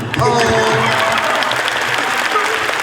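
An audience breaks into a short burst of applause, dense clapping sustained for a few seconds with voices mixed in.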